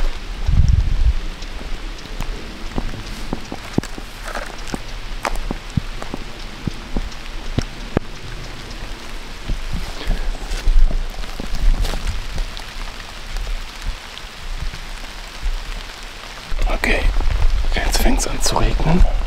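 Rain falls through dense forest in a small valley with wooded slopes during a hunt, giving a steady, even patter on leaves and ground, close and moderately loud, with a faint voice now and then and a denser burst near the end.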